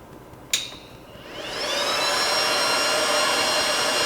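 An Innosilicon A10 Pro ETH ASIC miner powers on with a sharp click, and its cooling fans spin up into a loud, steady high-pitched whine that rises over about a second, then holds constant.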